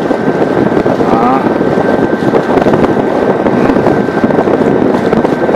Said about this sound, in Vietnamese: gió hơi lớn rồi, nên tầm cầm cái máy nó bị gió thổi, nó không có vững